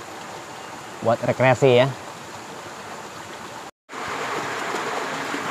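Shallow, clear river current runs in a steady, broadband wash at a recreation spot, present throughout with a brief dropout near the end; someone speaks briefly over it early on.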